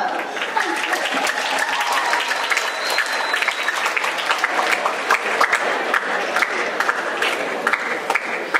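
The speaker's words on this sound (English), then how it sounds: "let's give a round of applause for the man club." School assembly audience applauding a club during a Black History program, steady dense clapping with crowd noise throughout, fairly loud and close, with scattered voices mixed in.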